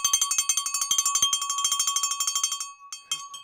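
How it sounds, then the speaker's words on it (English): A bright bell rung to greet a new channel member during a live running-shoe unboxing stream: rapid, evenly spaced metallic rings for about two and a half seconds, then a ringing tail and a few softer clinks. "we ring the bell, everybody."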